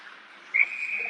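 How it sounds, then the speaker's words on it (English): A referee's whistle at an ice hockey game gives one short, bright, fairly loud blast that trails off over a faint rink background. "put that into the netting and get a whistle"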